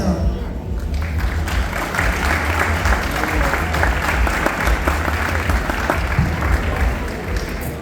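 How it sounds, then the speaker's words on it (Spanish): An audience applauds at a cannabis talk, sustained clapping from a crowd with voices mixed in beneath. "aplauso"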